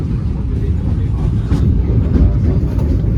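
Steady low rumble and rattle inside the moving Gaya Baru Malam Selatan passenger train, a dense, continuous drone that swells slightly partway through, with faint voices underneath.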